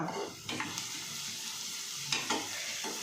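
Kurdai vegetable sautés in a pan until reddish, giving a soft, continuous sizzle with a few light stirring scrapes, fairly quiet and close, no voices.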